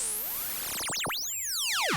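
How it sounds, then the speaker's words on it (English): Glassy ring-modulated tones from a Joranalogue Generate 3 synth module, shimmering sweeping partials that dive and rise in crossing arcs, bright and clean with no other sound. "And now you can get these kind of cool glassy tones."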